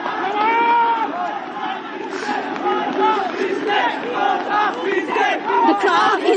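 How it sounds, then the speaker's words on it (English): A large anti-government protest crowd in Colombo, Sri Lanka, roars and chants continuously near a prime minister's residence, many voices shouting together at close range with steady, swelling intensity throughout. "The crowd is swelling"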